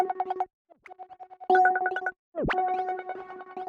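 A quirky, glitchy synth plays stuttering bursts of tones, interrupted by a sudden swooping bend, bright and choppy with short silences between.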